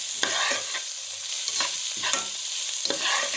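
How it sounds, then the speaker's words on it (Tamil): Cooked rice is tossed and stirred in a hot frying pan with vegetables for restaurant-style fried rice. Repeated scraping stir strokes sound over a continuous light sizzle, with no voices. "நம்ம இப்போது சாதத்தை நம்ம போட்டு அதில் சேர்த்துடலாம்."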